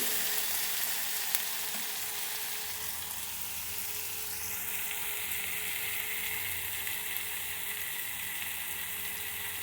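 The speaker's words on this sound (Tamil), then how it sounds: "வடகம் பொரிஞ்சிருச்சு" Vadagam, sun-dried fritters, frying in oil for a catfish kuzhambu make a quiet, steady, continuous sizzle with a soft bubbling hiss throughout, and nobody talks.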